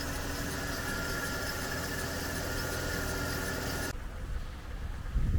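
A 2007 Mercedes CLK 350 Sport Convertible warming up at idle: a steady, even engine hum with a faint whine, close and constant, dropping to quieter rumbling near the end.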